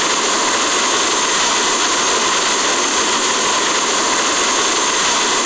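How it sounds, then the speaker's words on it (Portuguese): An airplane jet engine in the Xtreme Landing Pro flight game roars as a loud, steady, broadband whoosh that holds unchanged throughout, with no voices over it. "Eu gosto bastante de voar com esse avião aqui"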